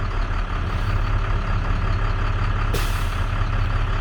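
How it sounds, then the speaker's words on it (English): A Class A truck's air brake governor cuts out as air pressure builds, a sudden hissing burst of released air rising over a loud, steady diesel idle rumble, close up. "I hear my governor cut out."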